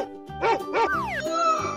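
Two short cartoon-style dog barks from a children's animal painting game, close and clear in quick succession, followed by a bright sliding electronic tone.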